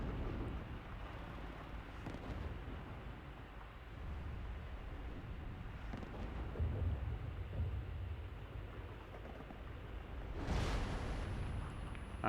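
Artillery fire in a war video game, heavy booms and a rolling low rumble over a dense battle din, with a brighter blast near the end, moderately loud.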